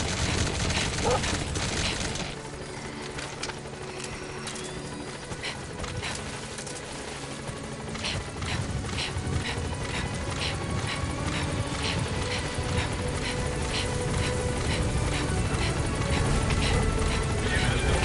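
A helicopter in the video game Metal Gear Solid V climbs after leaving a landing zone, its steady rotor roar loud and constant, mixed with bursts of gunfire and faint radio voices.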